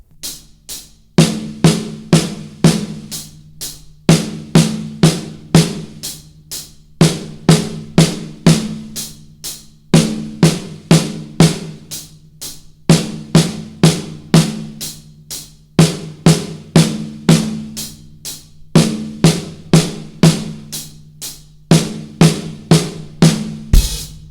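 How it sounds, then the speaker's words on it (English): A drum fill played alone on a kit: right-left strokes on the hi-hat followed by four quick snare hits, repeated in tight, evenly spaced groups, loud and close. "the first right, left is going to be on the hi-hat, and then the last 4 notes are going to be on the snare drum"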